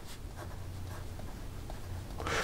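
A fountain pen with a bold stainless steel nib, filled with Montblanc BMW Blue ink, scratches softly across paper in faint, short strokes against a quiet background, ending in a louder scrape.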